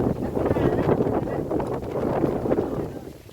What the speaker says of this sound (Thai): ลมก็ลมแท้ๆพี่น้องเอ้ย